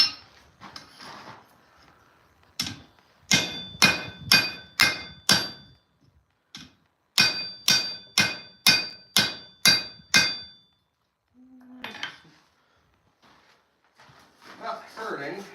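Hammer blows ring on metal at an anvil in a forge, two tight rhythmic runs of loud, bright clanging strikes separated by pauses, with a few softer taps and brief talk at the edges.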